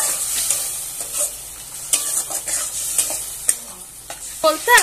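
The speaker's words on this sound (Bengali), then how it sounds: "এবার ভালো করে একটু মশলাগুলোকে আমি ভালো করে নেড়ে নিচ্ছি।" Spices being stirred and fried in a pan for a Bengali fish curry with potol and raw banana, a steady close sizzle broken by repeated scraping strokes of the spoon.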